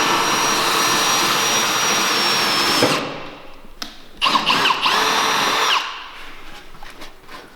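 A power drill whines steadily into the body of a Porsche, loud and close, then cuts off and restarts in shorter bursts with a changing pitch.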